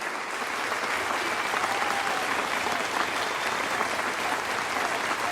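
A large wrestling event crowd in Las Vegas roars and applauds continuously, a dense wall of cheering noise that holds steady throughout.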